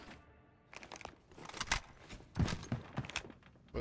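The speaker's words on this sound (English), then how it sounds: "Footsteps." Footsteps in the video game Call of Duty Warzone, a run of crunching, scuffing steps at an irregular pace, moderately close and getting louder toward the end, with no voices.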